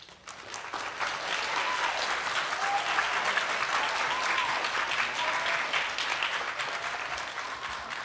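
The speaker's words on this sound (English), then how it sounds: "And I'd like to give you a round of applause to yourself for taking interest in this." An audience at a talk on comics applauds. It is a sustained, even round of clapping from a moderate-sized crowd, heard at a modest distance for about eight seconds.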